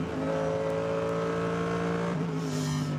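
Race cars at the ADAC 24h Nürburgring Qualifiers, including an OPC Astra, drone loudly and steadily near the Swallow's Tail corner, the engine note holding level before dipping briefly and picking up again.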